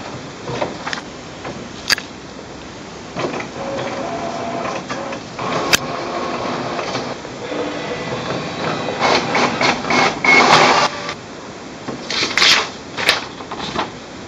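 An HP Officejet Pro 8730/8740 inkjet printer runs a black copy job, picking paper from tray 1 with whirring motors, clunks and sliding mechanical sounds over about fourteen seconds, close up and without speech.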